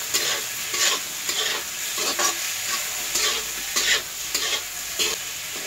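Malabar spinach with coconut, peanuts and potato is stir-fried in a pan, giving a constant close sizzle broken by regular bursts of scraping and stirring about once a second.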